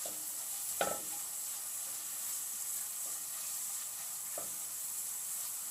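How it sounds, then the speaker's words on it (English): Curry sizzles faintly in a pan with dried curry leaves, a soft steady hiss broken by a few sharp stirring scrapes, quiet and close without speech. "You must make sure that you keep stirring it so that it doesn't go brown."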